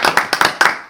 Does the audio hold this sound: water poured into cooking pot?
no